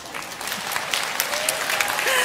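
Clapping from an audience builds quickly and holds steady, a dense patter of many hands, with a brief voice faintly underneath.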